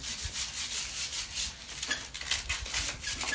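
Coarse metal sandpaper scrubbing rust off an iron piece for a DIY flower stand, a close, continuous rasping rub in steady back-and-forth strokes, alone with no talk.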